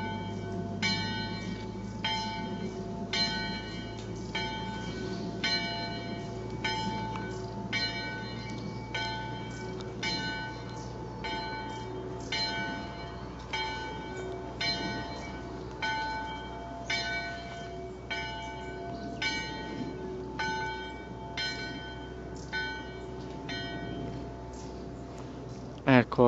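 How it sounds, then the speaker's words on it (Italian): A church bell at the Padri Pavoniani church in Lonigo, Italy, peals rapidly and steadily in a fast, continuous full peal, heard from a distance over low background noise and occasional voices. "la campana ha suonato una distesa veloce"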